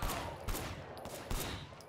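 Gunfire in the video game Sleeping Dogs: a few sharp shots at roughly regular intervals over a dense, noisy background, with no talking.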